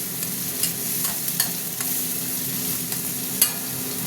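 Hot tempering poured into masoor lentil dal cooked with bottle gourd and tomato gives a steady, close sizzling hiss, with a few sharp clicks from stirring.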